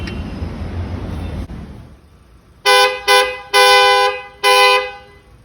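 A replacement horn fitted to a Volkswagen Taigun GT sounds four loud, close honks of varying length, following a stretch of low background rumble.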